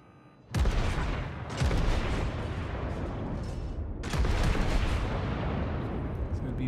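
Heavy battleship main-gun salvos in the naval video game World of Warships, Imperator Nikolai I, two loud booming volleys with rolling rumble between, close and dense, continuing without a break.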